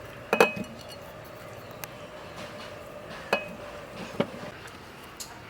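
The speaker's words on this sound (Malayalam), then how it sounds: "ക്യാരറ്റ് ജാറിലേക്ക് ഇട്ട് കൊടുക്കാം" Cooked carrot pieces drop into a blender jar for a carrot milkshake, giving a few sharp clinks and taps against the jar, loudest near the start and spaced out over otherwise quiet kitchen background.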